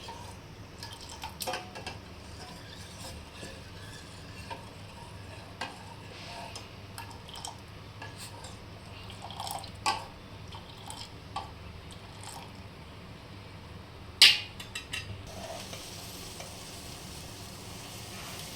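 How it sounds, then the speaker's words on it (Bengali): Milk heats in a pan on the stove for masala tea, giving a quiet, steady simmer with soft sizzling and occasional small ticks and clinks close by, with no talking. "দুধটা আমি বসালাম, এরপর এটা আমি ফুটাবো"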